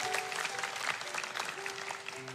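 A church congregation applauds during a sermon, a dense, steady patter of many hands over about two seconds, with a faint sustained tone running beneath.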